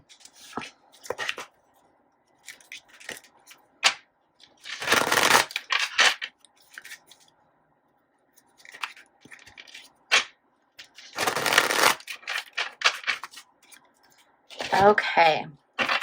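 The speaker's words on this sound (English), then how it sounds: "dealing out cards to see what energies we can get" Tarot cards being shuffled and dealt, with bursts of riffling and flicking, soft taps as cards are laid down, and someone talking between the handling.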